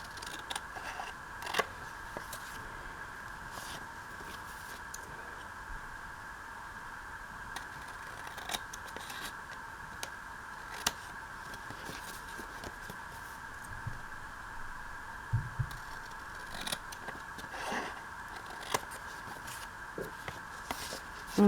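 Scissors cutting across paper for waterfall envelope pockets, a series of crisp snips at irregular intervals over a steady background hum, close, with no talking.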